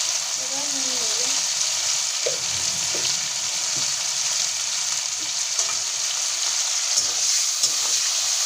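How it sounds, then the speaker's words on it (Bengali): Spices fry in a pan with turmeric and salt, a steady loud sizzle running throughout with occasional stirring scrapes underneath. "যেটা ভালো করে ভেজে নেবো"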